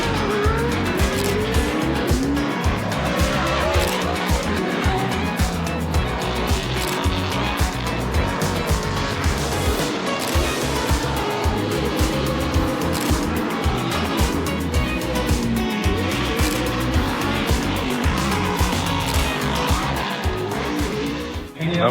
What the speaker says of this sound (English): Pro 4's on track right now.